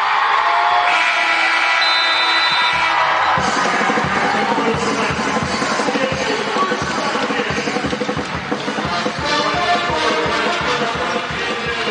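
Arena crowd at the close of an NCAA Tournament first-round basketball game between Oklahoma and Portland roars in loud, sustained cheering with yells and whoops, rising sharply after a brief lull and staying dense throughout.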